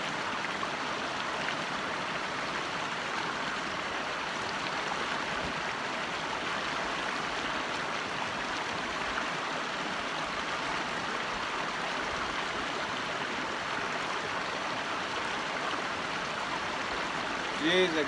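A stream runs steadily outdoors, a continuous even rush of flowing water, fairly close and unbroken throughout, with no voices over it.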